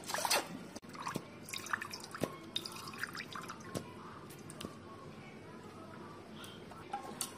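Rose water poured into a home-cooked chicken biryani comes through as faint, sparse drips and small splashes scattered over a quiet background.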